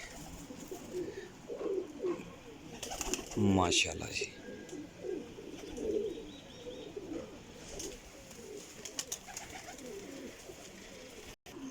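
Sialkoti Jaunsira pigeons coo softly in a loft amid faint chirps and wing rustles, with someone talking briefly over the birds.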